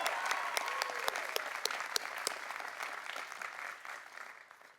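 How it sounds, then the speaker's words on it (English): Audience applause at the University of Rochester 2024 commencement ceremony, a dense, steady clapping from a large crowd that fades gradually toward the end, with no talking over it. "How about another round of applause?"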